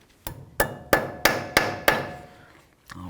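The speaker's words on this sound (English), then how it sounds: "slide through a lock and cotter pin, and then pin it over so there's no way it can loosen up" Five sharp, evenly spaced hammer strikes bend over a cotter pin on the front axle of a 2007-or-later Toyota Tundra during a wheel bearing job, each blow ringing briefly, with a softer tap at the end.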